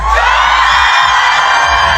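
A concert crowd at a live pop-group show in Japan shouts, whoops and cheers continuously and loudly, a dense wall of voices with no pauses.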